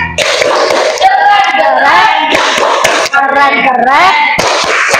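A classroom group performs the rhythmic "tepuk keren" clapping chant, with loud voices chanting together over sharp hand claps in a quick, patterned beat, close and energetic throughout.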